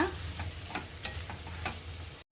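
Potato samosa masala filling being stirred in a pan, with soft scraping strokes and a faint sizzle repeating at a steady, close, quiet pace, no voices.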